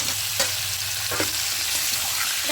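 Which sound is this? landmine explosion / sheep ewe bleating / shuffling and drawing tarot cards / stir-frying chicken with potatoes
stir-frying chicken with potatoes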